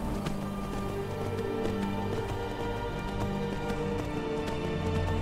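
A horse gallops in the video game Skyrim near sheets of ice, its hooves beating in a quick, steady rhythm over a continuous tonal game backdrop.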